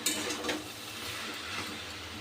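Taro and slit green chillies are stirred in a pan, with soft scraping and light clattering of the utensil against the pan, close and fairly quiet, and no talk.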